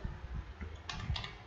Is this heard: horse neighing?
no